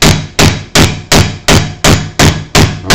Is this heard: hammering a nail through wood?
yes